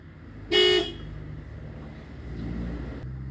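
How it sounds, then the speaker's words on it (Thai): A car horn gives one short, loud toot, then an engine idles and hums quietly in the background. "วิธีที่หนึ่งนะครับ เปิดแตรนะครับ"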